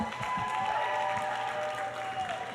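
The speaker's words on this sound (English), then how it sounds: "Let's give her a big round of applause." An audience at a pageant applauds, a continuous dense clapping that stays at an even level for the whole stretch, with a faint tonal sound running beneath.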